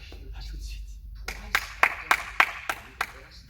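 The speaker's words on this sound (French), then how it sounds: "je pense qu'on peut s'applaudir super fort" Children and parents at a home family lesson applaud together, a run of about seven loud claps in irregular rhythm after a quieter stretch, with low background noise and faint voices.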